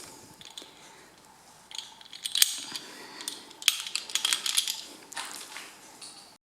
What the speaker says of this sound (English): this is a very handy tool to have to remove the oil filters